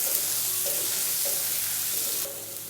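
Tomatoes sizzle and sauté in a very hot kadai for soya curry, with a loud steady hiss of frying and soft periodic scrapes of stirring.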